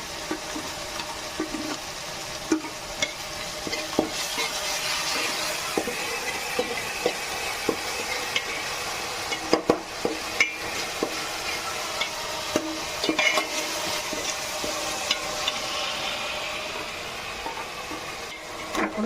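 Onions sizzle steadily in a hot pan for prawn malai curry, with salt added to brown them faster and a utensil scraping and stirring at close range in irregular clicks, no voices.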